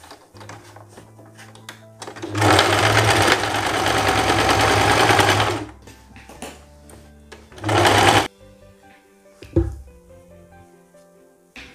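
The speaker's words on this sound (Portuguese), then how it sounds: "e agora costurando essa parte do gancho da frente" A sewing machine stitches the front crotch seam of a pair of pantacourt trousers in two close, loud bursts, a long run of about three seconds and then a shorter one, with quiet handling between.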